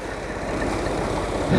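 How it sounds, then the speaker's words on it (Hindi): A tractor engine runs steadily close by, a continuous low rumbling drone with no talk, swelling slightly louder near the end. "ये ट्रैक्टर है जी।"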